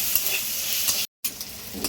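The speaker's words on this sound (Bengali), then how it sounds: "চিংড়ি মাছ ভাজা হয়ে গেছে" Shrimp frying gently in oil over a low gas flame while being stirred: a steady close sizzle with scraping stir strokes, broken by a brief silent gap.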